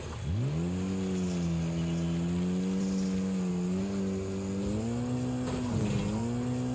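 A car spins out in the Wreckfest racing game, its engine droning loudly with a steady, wavering pitch that dips and rises. Tire squeal and skidding run continuously underneath, close and unbroken for the whole stretch.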